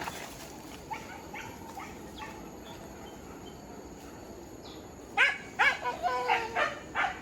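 After a stretch of steady outdoor noise on the Andalas University campus, a dog breaks into a run of loud, quick barks close by.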